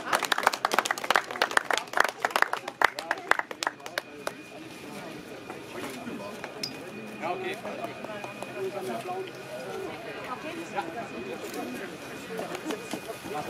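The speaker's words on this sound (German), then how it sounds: "Und Ihnen herzlichen Applaus bitte für Adrian Scott und Tom Kahn." Audience at a harness racing track in Gelsenkirchen applauds the amateur race winners, a burst of clapping in the first few seconds that fades into general crowd murmur and voices.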